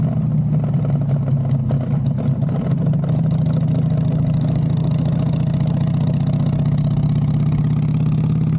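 A Harley-Davidson motorcycle engine runs on a road trip in Mexico, a steady loud low rumble that holds even throughout, with a slight rising pitch, no voices.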